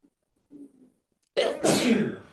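A quiet, hesitant intake of breath is followed by one loud, explosive sneeze, up close.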